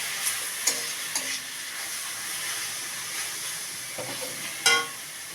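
Spinach frying in a pan with spices on a low gas flame gives a soft steady sizzle, broken by a few light clinks and scrapes of a spoon stirring it.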